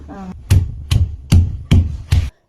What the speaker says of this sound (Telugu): పచ్చిగా దంచుకోవాలి.